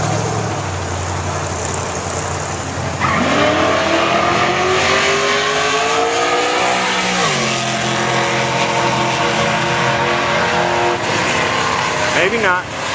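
Two Ford Mustangs launch side by side at a drag strip, their engines roaring loud and close with a steadily rising pitch as they accelerate hard down the track, then easing off near the end.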